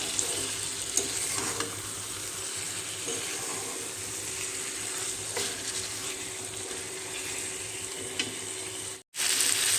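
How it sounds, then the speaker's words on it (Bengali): Moong dal paste and poppy seed paste sizzle and fry steadily in hot oil with ridge gourd, a continuous close crackle broken by occasional stirring scrapes. "ডাল বাটা আর পোস্ত বাটা দুটোই আমি সুন্দর করে ভেজে নিয়েছি, তেল ছাড়তে শুরু করেছে।"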